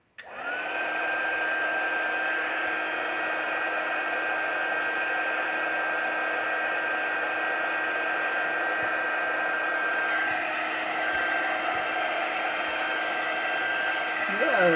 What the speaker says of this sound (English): I'm going to heat this up, melt it, and then as soon as I can, I will use the stamp